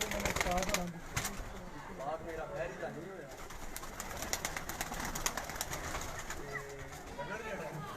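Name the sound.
rooftop pigeons cooing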